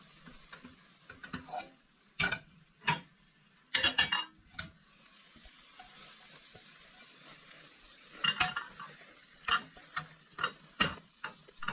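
Ham and egg scramble being stirred in a pan with the heat off: intermittent scraping and clinking of a utensil against the pan in short bursts over a faint background hiss, with no talking.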